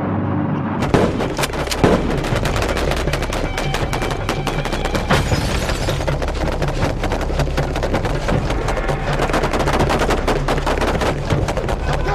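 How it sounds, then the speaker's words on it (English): Automatic weapons pour a sustained barrage of more than 300 rounds into a car in under ten seconds during an Israeli YAMAS police unit drill, dense overlapping gunshots that are loud, close and continuous for about eleven seconds. "Over 300 rounds of ammunition are laid into the car in less than 10 seconds."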